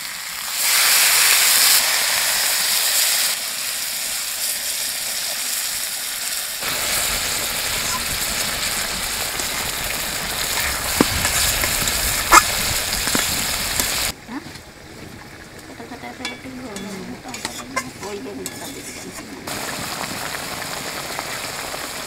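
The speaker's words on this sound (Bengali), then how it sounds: "বেগুনটা দিয়ে দেবো বেগুন দেওয়ার সাথে সাথে জল দিয়ে দেবো" Eggplant pieces added to a pan with potatoes, then water poured in, give a loud rushing hiss that gradually eases and turns to a softer, crackling simmer near the end.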